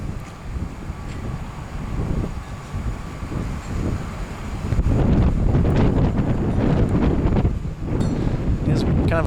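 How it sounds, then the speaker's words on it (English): Gusty wind buffets the microphone outdoors on a cool May day beside a 2004 BMW 320i, a rough low roar that grows stronger and louder halfway through, with no voices. "Kind of a windy day here today."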